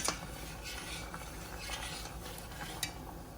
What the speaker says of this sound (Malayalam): നമുക്കിത് പതുക്കെ ഒന്ന് ഇളക്കി കൊടുക്കാം